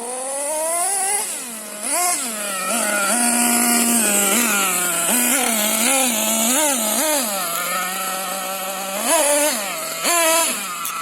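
A nitro-powered Hobao Hyper MT RC monster truck at a skate park, its small engine buzzing loud and high-pitched at a fast idle, with repeated sharp throttle blips rising and falling in pitch throughout.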